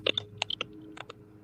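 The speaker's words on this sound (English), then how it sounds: "Who's typing a book on their lap?" Irregular clicking of keys being typed on a computer keyboard, a few quick taps in a loose burst and then sparser strokes, fairly faint, with no talking.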